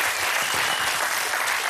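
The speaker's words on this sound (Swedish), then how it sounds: "kan vi passa på att ge Lasse Brandeby en riktigt stor applåd?" A television studio audience at the Swedish show BingoLotto applauds steadily, a dense wash of clapping hands that stays loud and even throughout.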